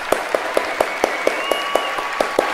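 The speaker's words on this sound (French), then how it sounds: "je vais applaudir pour le film d'Alexandre Astier." A single person claps alone at close range, about ten sharp, evenly spaced claps in a steady rhythm over a few seconds, with a faint whistle-like tone drifting in the background.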